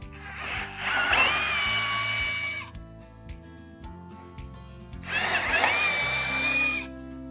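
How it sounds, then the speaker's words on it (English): Power drill with a 1/4 inch bit boring out a pilot hole in woodworking, heard in two whining bursts of a few seconds each separated by a quieter pause, fairly close. "I now have to bore out the pilot a little more with a 1/4 inch bit"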